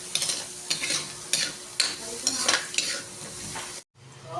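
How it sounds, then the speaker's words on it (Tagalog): Onion and garlic sautéing in a little oil in a pan for spaghetti sauce, a steady sizzle broken by regular scraping stirs, close and loud, ending in a brief silence before the frying resumes. "Ngayon, igigisa ko na ang sibuyas at bawang."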